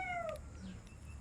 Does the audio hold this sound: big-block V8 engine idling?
no